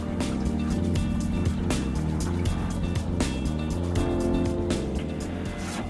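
A small sailing dinghy motors up the Hawkesbury River under outboard power, a steady close engine drone with harmonic hum and water noise running throughout with no talk.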